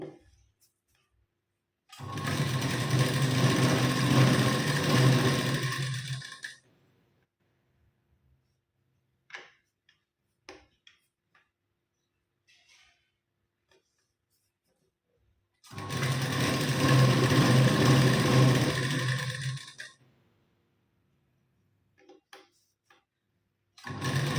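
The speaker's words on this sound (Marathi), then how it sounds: "आता व्यवस्थित आपल्याला पाठ एकावर एक ठेवून घ्यायचे आणि शिलाई द्यायची" A sewing machine stitches the back pieces of a blouse together in two loud, steady runs of a few seconds each, separated by a long quiet stretch with scattered small clicks and handling sounds.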